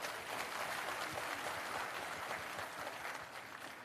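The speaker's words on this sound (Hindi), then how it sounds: "एक बार अपने लिए जोरदार ताली बजाएं।" Steady applause from a meeting audience, dense and even from start to end, clapping that holds at a constant level without voices on top.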